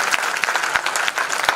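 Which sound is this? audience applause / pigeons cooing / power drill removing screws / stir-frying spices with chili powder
audience applause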